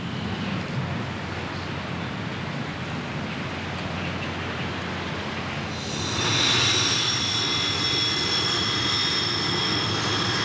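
A Soviet Su-17 M4 ground attack fighter bomber gives off a steady, loud jet roar that swells sharply partway through, gaining a piercing high whine on top of the broad rushing noise.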